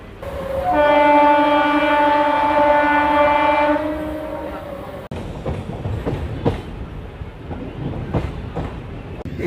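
A MEMU passenger train sounds a long, loud horn blast, then rolls along the rails with rhythmic clickety-clack wheel beats and carriage rumble, heard close by.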